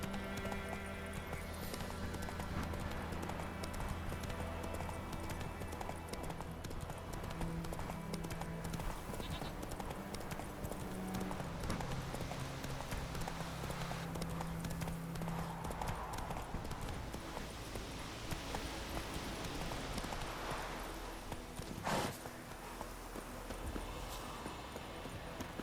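Horse galloping in The Witcher 3, a steady rapid clip-clop of hooves carrying on loudly and continuously, with a brief whinny and faint game ambience beneath.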